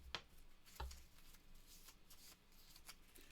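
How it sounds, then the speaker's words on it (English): A deck of board game cards is shuffled at close range, with two sharp riffle bursts followed by soft, faint card rustling in a quiet room. "I'm just going to shuffle it up because I saw the next card."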